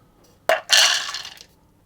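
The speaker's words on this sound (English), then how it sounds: "I'm going to put the pistachios into that bowl" Shelled pistachios pour into the small bowl of an immersion blender, a close, loud clattering rattle in two quick bursts that fade after about a second.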